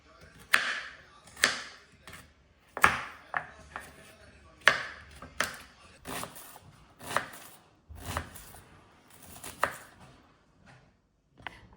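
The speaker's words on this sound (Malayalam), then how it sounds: "അപ്പം ഞാനിവിടെ ഉരുളക്കിഴങ്ങും ക്യാരറ്റും ഉള്ളിയും എല്ലാം അരിഞ്ഞെടുത്തിട്ടുണ്ട്" A knife chops through potatoes, carrots and onions on a board in an irregular series of crisp, close thuds, some quick and clustered, others spaced out, with no other sound on top.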